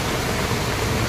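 Overflowing well water pours out nearby, a dense, continuous roar of splashing water filling the moment.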